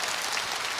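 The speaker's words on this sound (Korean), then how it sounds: "박수 한번 크게 보내주십시오" A brief, dense burst of audience applause rises from the crowd at a televised outdoor singing contest in Andong, South Korea, a steady wash of clapping with no voices.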